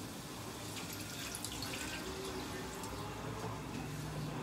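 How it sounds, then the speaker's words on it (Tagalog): Water pours steadily into a pot of liver for batchoy, a soft, continuous splashing trickle that stays even throughout. "lalagyan natin ng konting tubig kasi doon natin palalambutin yung laman loob"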